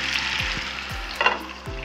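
Chicken pieces fry in ghee and white oil over a low flame, a soft, even sizzle with a few faint clicks and knocks near the pan.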